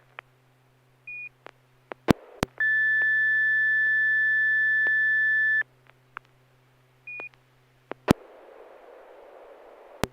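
On an amateur radio SSTV net, short clicks and beeps give way to a steady electronic tone held for about three seconds, then a raspy, buzzing PD120 image data signal begins.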